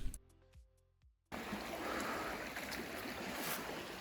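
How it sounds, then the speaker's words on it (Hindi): Rushing river water on the road from Pahalgam to Srinagar, a dense, loud, steady wash that cuts in abruptly after a second of faint clicks and tones, then continues unbroken. "नदी का जो धारा है वो जा रही है।"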